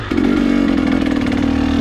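A KTM dirt bike engine revs loud and close on a night trail ride in Gifford Pinchot forest, holding a steady, buzzing high idle that climbs slightly toward the end, with no talk over it.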